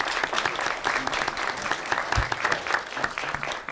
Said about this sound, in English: So let's give a big round of applause to our moderator, Errol Lewis.